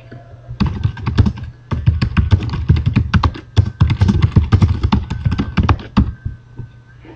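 Steady bursts of typing on a computer keyboard while writing a message, close and clear, with quick clattering keystrokes in uneven runs and a short pause near the start.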